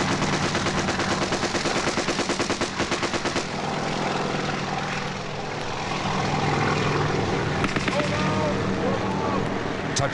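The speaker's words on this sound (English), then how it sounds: "Our chopper's gunner opens up on the tree line." Rapid bursts of a helicopter door gunner's machine-gun fire rattle over the heavy drone of the nearby helicopter, then the rotor noise carries on alone before more shots, recorded in the Vietnam War.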